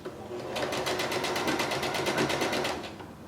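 A sewing machine stitching across fabric seams while sewing a mask, a close, steady rapid mechanical whir with even needle pulses running for about two seconds before slowing to a stop.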